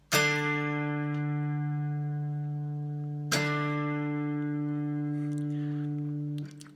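Two sustained electric guitar double-stop chords ring out, the second struck partway through, each sounding two notes together and decaying slowly, with no talking.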